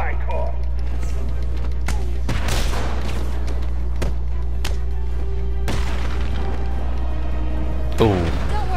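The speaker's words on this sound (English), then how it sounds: "Why does it feel like somebody's shooting at me? Something sounds like a gunshot." Sharp gunshots in the video game Batman: Arkham City, several separate loud cracks spaced irregularly over a steady game soundscape, with a player talking throughout.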